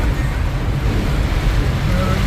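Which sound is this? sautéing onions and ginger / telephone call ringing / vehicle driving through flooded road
vehicle driving through flooded road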